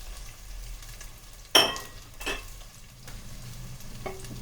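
Onions frying with curry leaves in a pan for a traditional mackerel (ayla, bangda) fish curry, a steady low sizzle broken by a few sharp scraping stirs, close and clear with no talking.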